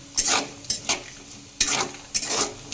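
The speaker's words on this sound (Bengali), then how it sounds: "খুব ভালো করে ভেজে নেব" Coconut pieces fry in hot oil with a soft sizzle while a utensil stirs them in four quick scraping bursts, close and alone.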